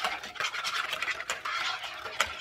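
A utensil stirs French toast batter of vanilla and cinnamon in a bowl, giving close, quick scraping and sloshing strokes in an uneven rhythm with a few sharper clinks against the side.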